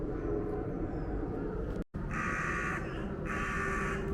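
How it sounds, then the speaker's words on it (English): Crows in a park, two clear harsh caws a second or so apart, moderately close, over a constant hum of distant traffic and wind. "Oh, look at them crows."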